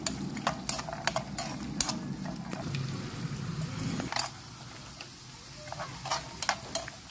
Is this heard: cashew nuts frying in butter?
yes